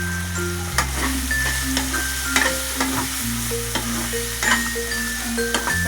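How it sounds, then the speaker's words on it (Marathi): Spices and paste for kheema sizzle and fry in a pan while being stirred, with repeated scraping strokes over a continuous crackling sizzle and a steady kitchen hum. "चांगला व्यवस्थित मिक्स करून घ्यायचं सर्व मसाले"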